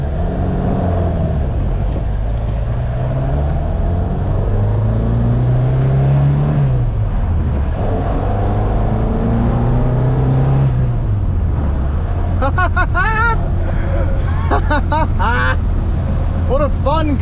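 A Ford Mk1 Escort rally car engine drones and revs while driving, pitch rising and falling through gear changes, close and loud inside the car, with a voice speaking briefly near the end.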